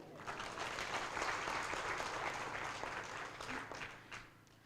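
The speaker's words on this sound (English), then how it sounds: "let's clap hands for him again" Attendees at a public hearing on a veld and forest fire bill give a round of applause, a steady wash of many hands clapping at a distance that fades out near the end.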